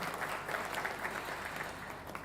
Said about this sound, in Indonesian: Mari kita berikan tepuk tangan yang meriah untuk mereka semua.